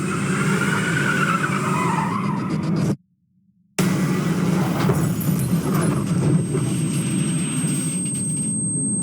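A Honda Civic's engine roars at high speed with tires screeching as the driver loses control, cut by a brief silence, then the loud revving and skidding resume.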